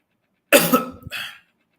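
A single close, harsh cough bursts out, followed by a shorter second hack, then silence.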